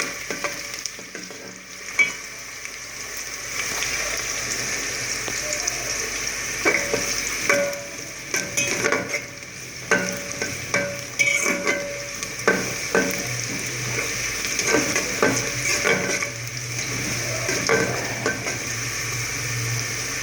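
Onions browning in a pan for a Pakistani kadhi pakora, stirred steadily with a steady sizzle and frequent sharp clinks of a utensil against the pan, with no talking.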